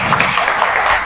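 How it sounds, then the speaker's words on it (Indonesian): Brief burst of dense clapping from a classroom of students, loud and close, lasting about a second with no talking over it. "Tepuk tangan untuk Sylvie."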